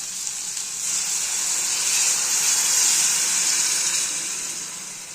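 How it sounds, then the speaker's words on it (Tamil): Curry sauce for a dried-fish kuzhambu poured into a hot pan of sautéed mixture makes a loud, bright hiss and sizzle that swells steadily and then eases off, close by and with no talking. "இவன் வதங்கினதில் நம்ம கூட்டி வச்சுருக்க குழம்ப அதில் ஊற்றிடுறோம்."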